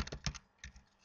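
Close, crisp typing on a computer keyboard while entering a search term: a quick cluster of keystrokes, a short pause, then a few more light taps, with no talking.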